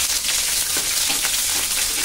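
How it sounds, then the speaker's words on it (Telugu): Green chilies frying in hot oil in a pan, a loud, dense, unbroken sizzle heard up close, with no speech over it. "నూనె వేడయ్యాక అందులో పచ్చిమిరపకాయలు వేసి వేయించుకోవాలి."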